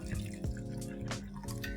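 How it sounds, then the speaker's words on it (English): Water poured into ground fish curry paste in a kitchen, a steady liquid trickle and splash running for under two seconds beneath a constant low hum. "Let's add in some water"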